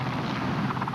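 Helicopter landing on a playing field beside a hospital, its steady heavy rotor thrum loud and continuous throughout the brief moment.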